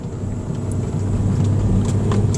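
A car rumbles steadily along a rough outback road in Western Australia, its engine drone and bumpy road noise continuous and close throughout.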